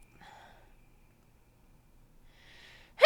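A single sharp, loud sneeze bursts out at the very end, after a few seconds of quiet breathing and faint room noise.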